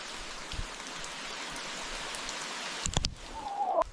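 Steady, soft rain falls on wet greenery in a wild outdoor setting, making an even patter. A few sharper drips and taps stand out near the end.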